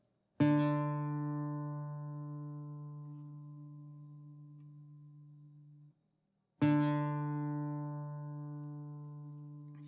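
A guitar string plucked twice while being tuned to pitch with an electronic tuner, each note ringing clearly and slowly fading over several seconds before the next pluck, alone and close.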